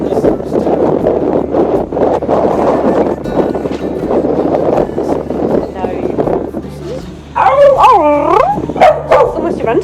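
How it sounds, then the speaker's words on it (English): Dogs bark and howl loudly nearby, a busy overlapping chorus that rises into drawn-out, wavering howls toward the end, with people talking throughout. "It's the dogs behind you, Dave."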